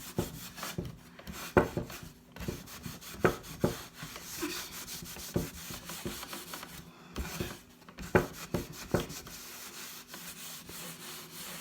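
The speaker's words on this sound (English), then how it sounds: "I'm just going to give it a quick going over the wax so that it's a bit more protected." Wax is rubbed onto a wooden craft piece, giving a series of irregular, close scuffing and rubbing strokes with brief knocks between quieter pauses.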